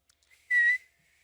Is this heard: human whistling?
yes